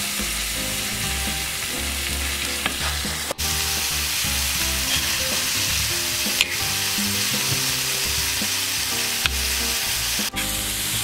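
Food fries in a hot pan with a loud, constant crackling sizzle, punctuated by sharp pops of spattering oil at irregular intervals.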